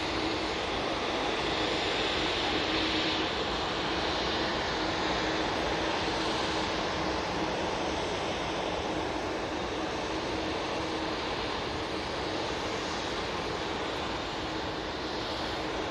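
An Airbus A330 airliner at Manchester Airport, a broad, steady roar of jet engines that holds loud and even for the whole stretch, with no voices over it.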